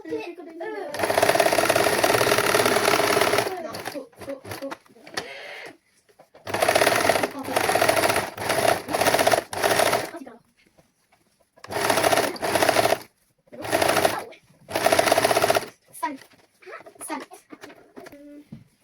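A sewing machine stitches a princess-cut saree blouse, running loudly in several bursts of a few seconds each, separated by short pauses, with voices talking faintly in the gaps.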